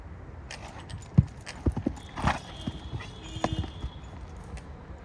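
A Marwari stallion ridden on a ranch: several irregular hoof clops ring out close by, with soft snorts and scuffs between them and no speech.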